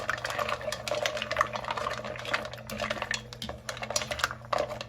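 Mussels in a pan of marinara sauce are stirred and shifted around, shells clattering and scraping against the metal in irregular bursts over a low bubbling simmer.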